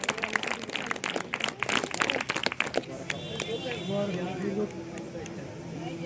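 Clapping from a crowd at a district kho-kho final match in Kulgam, a dense burst of hands in the opening seconds that fades as voices and children's chatter take over.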